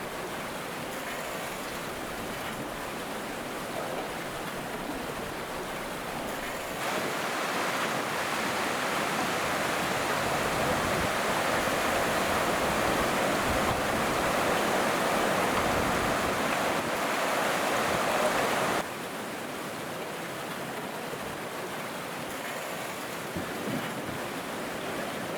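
Shallow, fast river water rushes over rocks in rapids on the Wenlock River, a dense, steady roar of flowing water that swells louder partway through and then eases back, with no voices.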